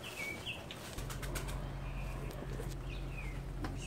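A pigeon takes off from a loft with flapping wings, several quick wing beats and rustles over a constant low hum and outdoor background, with faint bird calls mixed in.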